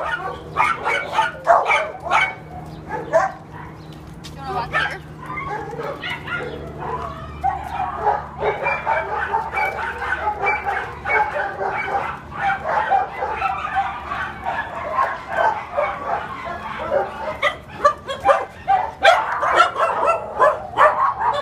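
Several dogs at an animal shelter bark and yip repeatedly in irregular bursts, some near and some farther off, echoing through the kennels.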